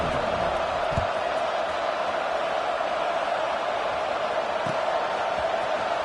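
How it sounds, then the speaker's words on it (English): A college football stadium crowd just before kickoff fills the space with a steady, broad roar of distant voices, with occasional louder whoops and shouts rising out of the continuous wash of noise. "this crowd now ready to get behind them"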